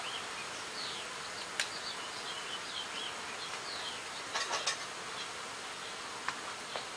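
Honeybees hum in a low, continuous buzz from a package being opened for hive installation, with scattered sharp ticks and clicks from handling the container, fairly quiet and without talking.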